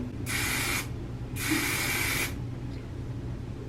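Two bursts of aerosol spray hiss close by, the first short and the second longer, with quiet pauses between.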